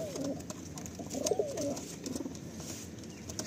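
A Madrasi pigeon held in the hand gives a few soft, close coos in short rolling phrases, with quiet pauses between them.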